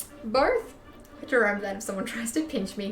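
A dog barks and yips outside, short sharp calls mixed in under close, steady talk by a person nearby.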